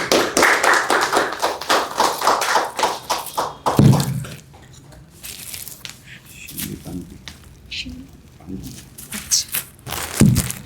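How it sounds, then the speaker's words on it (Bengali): An audience applauds at a World Heritage Day ceremony, with a few seconds of dense, loud clapping that thins into scattered claps and quiet stretches before a short final burst, while voices talk. "আমরা আবারও একটু করতালির মধ্য দিয়ে অভিবাদন জানাবো"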